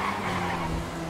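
A motorbike braking hard and skidding in GTA 5 with mods, the tires scraping over a steady engine drone, loud and close for about a second with no talk over it.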